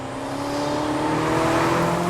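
A Ferrari California T twin-turbo grand tourer accelerates hard, its engine note climbing smoothly toward a high rev limit, loud and close, with a rising whine over the roar.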